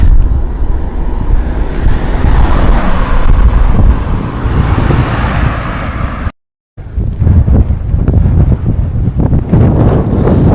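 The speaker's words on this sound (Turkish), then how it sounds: "Acayip rüzgar var." Strong wind at a lakeside in Gölköy, Bolu buffets the microphone in a loud, continuous roar, broken by one brief moment of silence before the gusts return.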